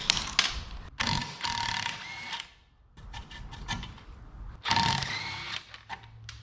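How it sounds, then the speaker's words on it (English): A ratchet wrench unbolting ball joint bolts on a 1976 GMC short bed truck, bursts of rapid clicking in two or three runs separated by short pauses and metallic taps, close and fairly loud. "Simply unbolt the bolts."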